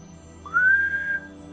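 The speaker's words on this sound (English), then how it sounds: "but I whistled" A person whistles one clear, steady note that starts with a quick upward glide, holds for about half a second and then stops, over a faint low background hum.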